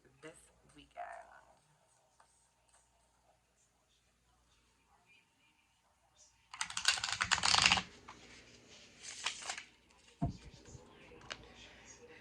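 Tarot cards are shuffled in a quiet room, giving a loud, crisp riffling burst followed by softer flutters and taps, with faint talk at the start.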